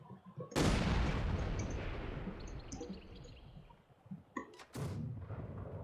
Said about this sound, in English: this mortar is murdering them